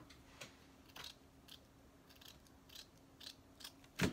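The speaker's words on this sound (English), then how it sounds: "I'm going to cut that off because of that white thread right there is in the way" Scissors snip through white thread in a series of short, crisp cuts, quiet and close, with a sharper snip at the end.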